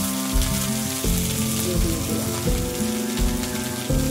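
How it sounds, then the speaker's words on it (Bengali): Drumstick leaves sizzling steadily in a hot pan with a little salt, a continuous close frying crackle with faint stirring movements. "এগুলো আমি নেড়ে চেড়ে কম ঝালে এগুলো আস্তে আস্তে ভেজে নেব"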